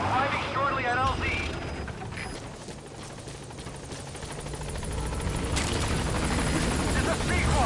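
B-Quad support helicopter in Metal Gear Solid 5 arriving at the landing zone, its rotor a steady whooshing drone that swells and fades, with brief radio chatter and a voice speaking over it.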